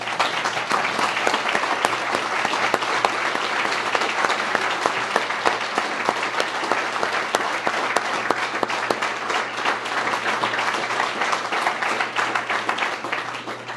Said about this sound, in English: I'd like a round of applause for all of you.